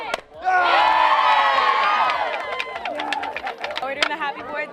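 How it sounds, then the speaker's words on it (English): Campers at a team-building camp break through boards while peers and camp staff erupt in loud, sustained cheering and shouting, with sharp cracks and claps scattered through the noisy crowd. "Every camper breaks through a board to the uproarious cheering of their peers and camp staff"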